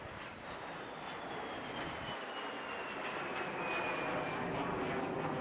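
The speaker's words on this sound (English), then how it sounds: "It's not the only twin-boom aircraft coming to display with us today, George." A twin-boom jet aircraft displaying at the Bournemouth Air Festival roars as a broad, steady engine rush, building slightly louder over several seconds with a faint descending whine, heard from a distance without talk.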